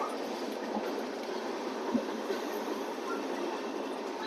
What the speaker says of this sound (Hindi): राजेंद्र नगर नई दिल्ली तेजस राजधानी एक्सप्रेस प्लेटफॉर्म नंबर 1 पे खड़ी है।